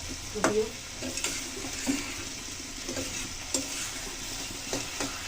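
Potatoes in a fish-head and cabbage dish being stirred and cooked dry in a pan: repeated scraping stirs with a soft, steady sizzle underneath, close and moderately loud, with no talking.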